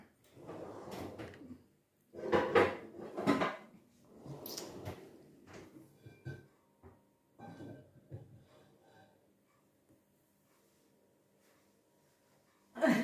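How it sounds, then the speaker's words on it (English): A washed pan goes into a kitchen cupboard in a retirement home, with several sharp clatters and cupboard door knocks over the first few seconds, then quieter handling and a near silent stretch before a final bump. "I'm just putting a pan away I'd washed earlier"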